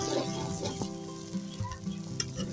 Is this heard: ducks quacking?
no